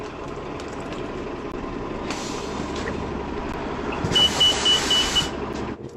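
Calgary Transit city bus idling and rumbling up close from inside, with a steady low engine drone, a brief higher whine and a loud hiss of air releasing near the end.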